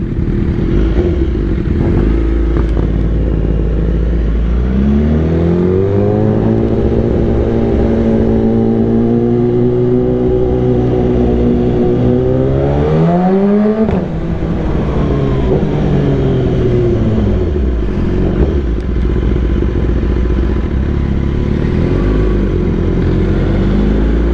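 A superbike rides away from a bike meet, its engine droning loudly and continuously close up, with pitch rising and falling through gear changes and revs.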